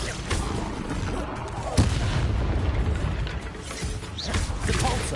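Confringo fire spell bursting in Hogwarts Legacy, a dense, rumbling blast with mechanical clanking and a sharper boom near the middle, loud and sustained over continuous game noise.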